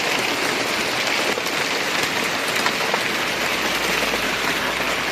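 Steady, dense rain hisses onto an outdoor allotment garden, a constant close wash of drops with no pauses.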